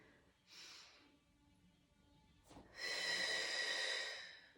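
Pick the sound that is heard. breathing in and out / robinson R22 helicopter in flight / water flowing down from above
breathing in and out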